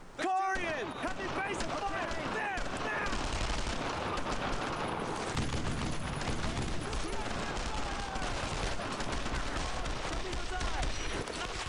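Squad gunfire in Brothers in Arms: Road to Hill 30, dense and continuous rifle and machine gun bursts from several shooters, loud and close, with voices talking throughout.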